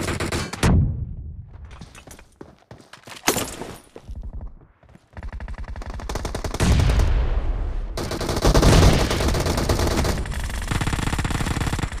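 Gunfire in a PUBG mobile match: scattered single shots and short bursts at first, then sustained rapid automatic fire, loud and close, with no talking.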